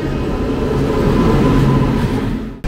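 Kumbha Express pulling out of Laksar Junction on its Kolkata to Dehradun run, heard from inside: a steady, loud rumble of wheels and carriage noise that drops out abruptly near the end.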